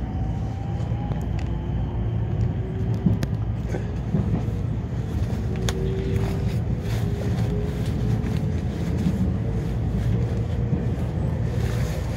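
A JR Kobe Line rapid train rumbles steadily along the tracks near Motomachi, a continuous low roar with faint rising whines of the motors, heard from inside.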